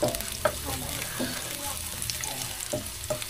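Rice frying in a pan, stirred by a spoon with soft scraping strokes over a steady background sizzle, the scrapes coming at irregular intervals and nearby.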